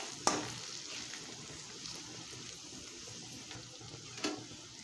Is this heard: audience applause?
no